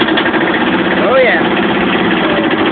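An old Kubota engine runs steadily after a cold start on New Year, a constant close mechanical drone under an excited voice.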